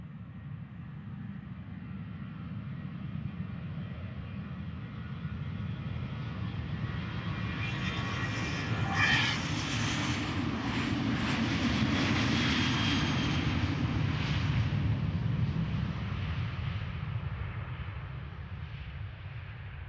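An airliner leased to KLM departs Amsterdam Schiphol Airport. Its engines give a steady broad roar that slowly swells and peaks midway as it passes, then eases off, heard outdoors without talk.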